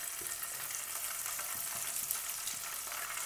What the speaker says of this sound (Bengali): ঘিটা ভালোভাবে গরম হয়ে গেছে, এবার আমি পনিরের টুকরোগুলো সব দিয়ে দেবো এক এক করে।